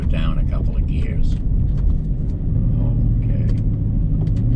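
An old Hemi car engine downshifting through the gears with a slap shifter on a mountain road, a loud low rumble close up that holds steady beneath a voice talking.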